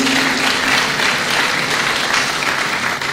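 An audience at a university inaugural lecture claps steadily, a dense, even wash of applause filling the room from start to finish with no voices over it.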